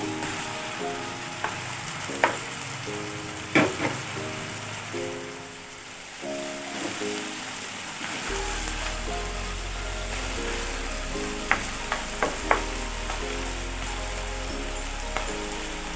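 Chicken breast frying in a pan with oil, a continuous crackling sizzle with occasional sharp pops and clinks of stirring, close and moderately loud, no talking.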